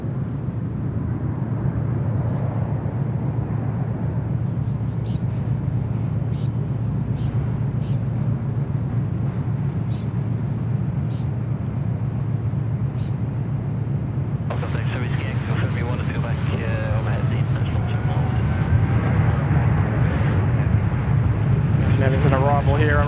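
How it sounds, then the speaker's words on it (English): An airliner, American flight 72, taking off from Sydney Airport runway 34 left, a heavy steady low engine roar throughout that grows harsher and rougher in the second half, with someone speaking over it. "American 72, runway 34 left, clear for takeoff"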